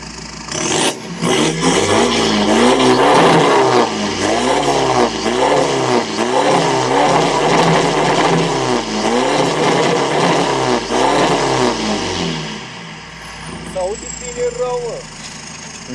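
A VW Passat B6 R-Line with a tuned 2.0 diesel and straight-pipe exhaust revs repeatedly near and loud, its rumble rising and falling in rhythmic waves before settling toward idle.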